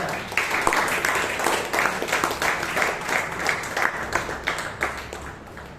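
An audience at a Toastmasters meeting in Bangalore gives a speaker a burst of applause, with many hands clapping in a dense, steady rattle that fades slightly toward the end.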